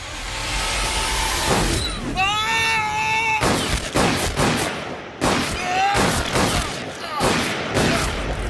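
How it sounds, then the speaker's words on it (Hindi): Gunfire in a Hindi-dubbed action film: a string of loud, sharp shots fires in uneven bursts over several seconds, mixed with a wailing tonal sound and dense background noise. "किसने गोली चलाई है?"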